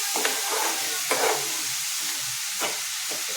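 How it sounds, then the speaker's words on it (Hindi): Cashews and almonds frying in ghee in a pan, a steady close sizzle and hiss with a few brief stirring scrapes, no talking. "ये थोड़ी सी जो काजू बादाम है इनको घी में फ्राई कर लेते हैं।"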